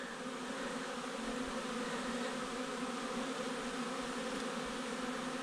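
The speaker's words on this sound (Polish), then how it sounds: "teraz to już większość wystrzeliła z uli" Honeybees pouring out of their hives on a warm spring day, a dense, steady buzzing swarm that is loud and continuous throughout, with no voices.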